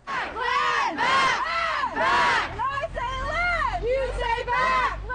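A crowd of protesters in downtown Winnipeg chants in loud, rhythmic call-and-response bursts with sung, rising voices. Traffic rumble sits underneath.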